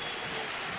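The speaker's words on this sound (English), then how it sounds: "this crowd been itching to get up and do some stomping" A baseball crowd in a ballpark stomps and applauds, a dense, steady wash of clapping and rumble filling the whole moment at moderate distance.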